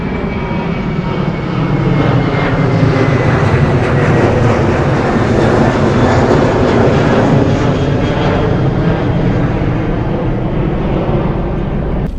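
A passenger airplane climbs out from an airport close by, its loud, steady engine roar filling the air continuously and building slightly as it passes over, with no voices.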